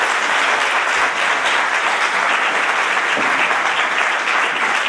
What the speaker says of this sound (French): Sous vos applaudissements, Ezan, candidat numéro 1.